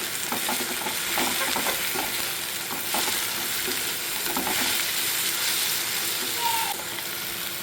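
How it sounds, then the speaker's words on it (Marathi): Chili and onion sauté in a pan, a loud, close, continuous sizzle broken by repeated scraping stirs. Faint voices may sit underneath. "छान असं मिरची कांदा परतून द्यायचं"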